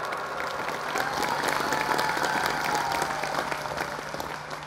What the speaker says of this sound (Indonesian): Tepuk tangan untuk Madrasah Sunan Ampel ini.